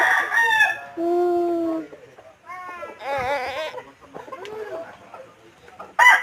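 Several fighting roosters (gamecocks) crow loudly in turn, long rising calls overlapping one another, with clucking between them and a final crow cut off at the end.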